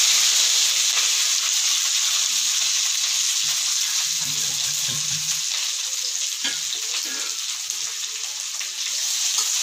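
Onion, green chili, curry leaves and ginger frying in hot oil for poori masal give off a loud, steady, close sizzle throughout, with brief stirring sounds partway through and no speech.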